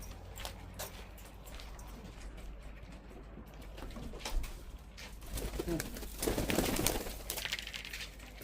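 Domestic pigeons coo softly and repeatedly close by in a loft, with light rustling and wing movement around them.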